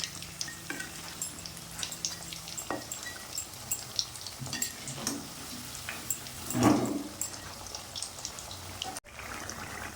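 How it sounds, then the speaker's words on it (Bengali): Stuffed mung dal pitha frying in hot oil, a soft continuous sizzle with small crackles and occasional scraping as the pieces are turned, one brief louder splash of bubbling near the end, no talking. "পিঠেগুলি ভাজা হয়ে গেছে"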